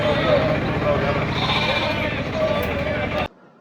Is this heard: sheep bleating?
yes